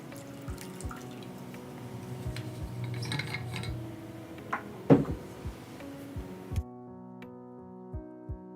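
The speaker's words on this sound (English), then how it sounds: "I'm gonna pour some tea." Tea poured into a cup at a desk, a quiet trickle with scattered drips and small clinks of the cup, one sharper knock midway, then steady ringing tones near the end.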